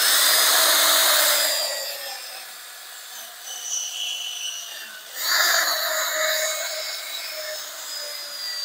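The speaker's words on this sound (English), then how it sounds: "I'm going to hit them with a wire brush." Wire brush scrubbing rusty screws on a Honda EU3000is inverter generator, a steady abrasive rasping that swells at the start, eases off and returns after a brief pause, close and alone.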